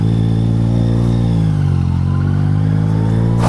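Yamaha MT-09 naked motorcycle engine running loud and close, its pitch dipping and then climbing again in a rev, with a sharp burst at the very end.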